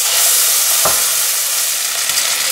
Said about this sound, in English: Now transfer this ground contents to the wok.